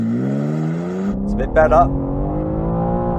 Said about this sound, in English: This BMW might not have launched quite as well as the Porsche